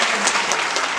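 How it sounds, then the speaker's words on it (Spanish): An audience at a lecture on animation production breaks into warm, steady applause, a dense even wash of many hands clapping throughout. "De verdad, un fuerte, caluroso aplauso, de verdad."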